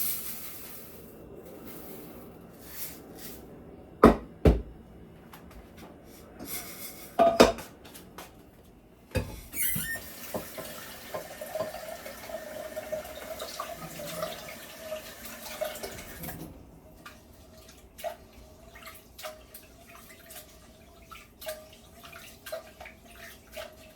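Tap water runs as rice is rinsed in a pot, with sloshing, a couple of sharp clanks of metal cookware and intermittent splashing and draining. It is close-up and moderately quiet, with no speech.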